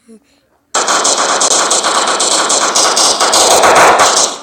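Gunfire in the mobile game Pro Hunt Portable bursts in after a brief quiet, a rapid, loud string of shots rattling for several seconds as a voice speaks in the background.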